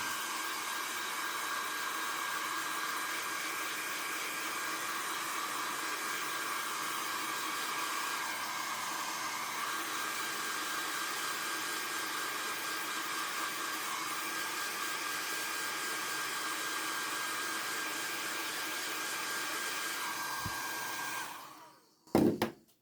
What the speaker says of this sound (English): I'm going to hit it with my heat tool, and we're going to dry it really quick